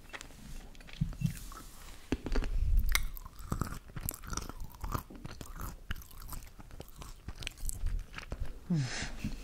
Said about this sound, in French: Je vais peut-être me reprendre une petite noix de cajou